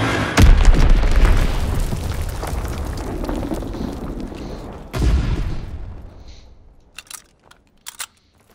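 Mortar rounds and a Fritz X bomb exploding in Call of Duty WWII, with a heavy booming barrage that rumbles on for seconds, then a second big blast that fades into a long decay, followed by a few faint clicks.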